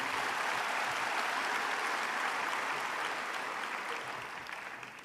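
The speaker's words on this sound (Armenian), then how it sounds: "Եկեք եւս մեկ անգամ ծափահարենք մեր լավ ընկերոջը Իշխան Սաղաթելյանին։" Steady, dense audience applause at a party gathering honouring a speaker, loud and continuous throughout before tapering slightly near the end, with no talk over it.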